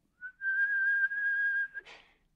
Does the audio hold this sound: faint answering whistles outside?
yes